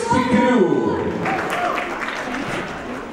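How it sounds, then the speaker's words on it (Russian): An audience applauds with a sustained wash of clapping, heard under a speaker's voice at a teen crew performance. "Их так много, ваших аплодисментов так мало."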